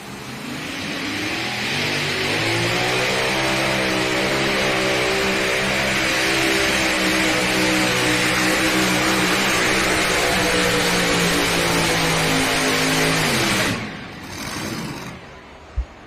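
A pulling tractor engine roars during a sled pull run on a fresh track, a sustained loud, heavy drone that climbs slightly in pitch over many seconds before cutting off abruptly near the end.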